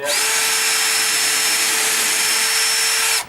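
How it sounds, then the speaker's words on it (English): A drill bores 1/8 inch pilot holes for the center screws of an Andersen 3000 storm door, one steady close whine running almost the full length before cutting off abruptly. "We're going to drill an 1/8 inch pilot on the center holes"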